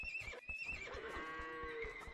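A horse neighs in Age of Empires 2, a clear whinny with a descending, wavering tone, heard close and alone over faint soft thuds.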